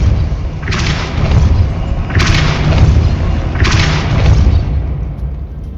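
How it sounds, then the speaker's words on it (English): In Hogwarts Legacy, Depulso spell casts land as three deep booming thuds with bright bursts, evenly spaced about every one and a half seconds over a constant game rumble. "Depulso."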